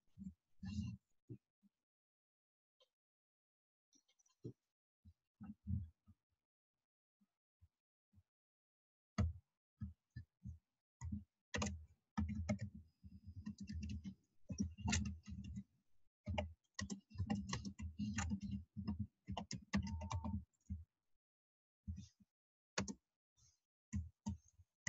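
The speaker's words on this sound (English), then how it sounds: "I'm typing it in the chat now." Keyboard typing into an online chat during a group orientation session, heard as scattered bursts of quick key clicks, sparse at first and then dense and continuous, close and fairly quiet.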